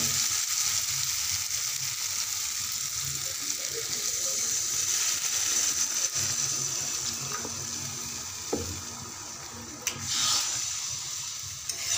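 Water poured into a pan of fried fish curry hits the hot oil and hisses, a loud, steady sizzle with splashing that gradually settles while cooking continues.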